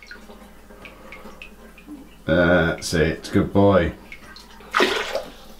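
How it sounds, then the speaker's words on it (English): Water running steadily from a bathroom tap while a child brushes his teeth, a constant hiss of flow with an adult speaking over it. "Should we get the tap on?"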